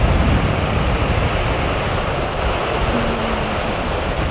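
Ocean waves breaking on Ross Bay Beach along the Ring of Kerry in Ireland, a steady broadband surf roar with wind buffeting the microphone, loud and continuous with no voices.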